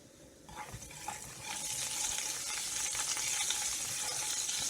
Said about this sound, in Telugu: ఈ ఆయిల్ ఫ్రై అవుతూ ఉన్నప్పుడు కొంచెం వామ్ వేసుకుందామండి.